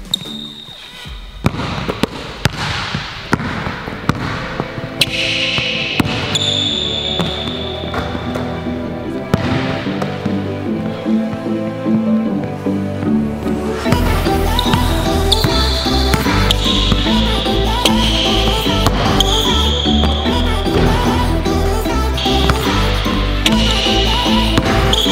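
A basketball bouncing on a court during a catch-and-shoot workout, many sharp thuds in a steady dribbling rhythm, close and loud over a music track.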